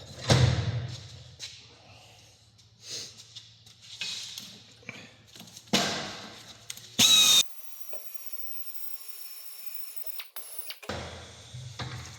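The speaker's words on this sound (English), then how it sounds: "whiz with the wire wheel" A power-tool wire wheel whirs in short bursts while cleaning brake parts on a Jaguar X-Type Estate, with clunks and handling noises between the bursts and a quieter stretch afterward.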